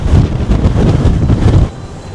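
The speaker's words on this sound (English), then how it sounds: "And it is extremely windy out here." Strong wind at the bow of a cruise ship buffets the microphone in a steady, loud roar with low rumble, easing slightly near the end, with no talking.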